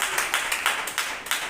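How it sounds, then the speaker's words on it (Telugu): A church congregation at a Sunday service clapping together in a steady rhythm, about eight sharp, even claps, loud and close with no talk over them. "చప్పట్లు కొట్టి ప్రభుని గడప."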